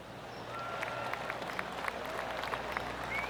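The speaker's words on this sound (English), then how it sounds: "Oh, golf clap." A golf gallery applauds in a PGA Tour 2K23 video game, a moderate, steady patter of scattered claps spread across a distant crowd, continuing without break.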